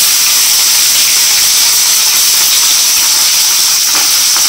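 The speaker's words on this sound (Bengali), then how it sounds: "এই দারচিনি লবঙ্গ এলাচ তেজপাতা ফোড়ন দিয়ে দিয়েছি" Whole cinnamon, cloves, cardamom and bay leaf sizzle in hot oil as a tempering for rice, giving a loud, steady hiss close up with no pauses and no talking.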